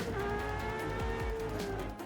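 A GMA T.50 in the Forza Horizon racing game screams with a high-pitched, F1-like engine tone, steady and loud, with brief gear shifts and a hint of tire noise.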